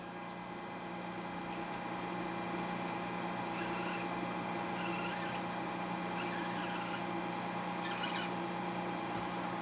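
Metal being drilled slowly on a machine for a custom widget part, a steady machine hum under periodic scraping, grinding bursts as the bit cuts, faint and fairly even throughout.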